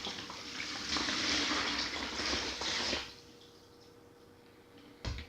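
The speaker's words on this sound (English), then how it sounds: "I'm going to add the water to this bucket" Cold water pours into a bucket for mixing alginate, a steady close splashing gush for about three seconds that stops abruptly, followed by quiet and a brief final splash or knock.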